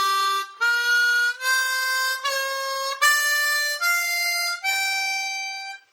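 A harmonica runs up the blues scale in second position, seven sustained reedy notes one after another with short breaths between, close and clear with no talking.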